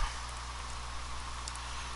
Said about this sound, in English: The rain won't let up.